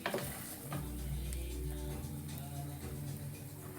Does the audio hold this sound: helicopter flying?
no